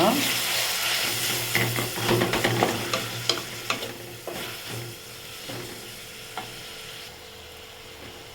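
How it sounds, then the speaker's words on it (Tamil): Onions and tomatoes sautéing in a pan for kothu chapati, a steady frying sizzle with repeated scraping and stirring clinks of a spatula against the pan, close and continuous with no talk. "தக்காளி சேர்த்து நல்லா வதக்கிக்கோங்க"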